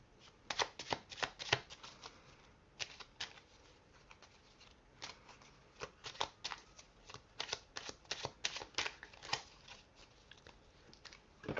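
Tarot cards are shuffled close up in irregular bursts of crisp riffling and flicking, pausing briefly between rounds, with no talking.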